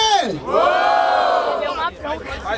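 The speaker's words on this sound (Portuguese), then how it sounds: "Barulho para as rimas do D9!" A crowd at a Brazilian freestyle battle rap event (Batalha da Aldeia, Barueri, São Paulo) roars and shouts at once, one loud sustained wave of cheering that dips briefly near the end.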